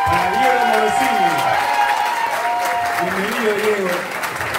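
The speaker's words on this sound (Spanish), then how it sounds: "Así que fuerte el aplauso para Diego Morosini." Audience applause for a contestant at a singing talent show, loud, continuous clapping with some cheering while music plays alongside, easing slightly toward the end.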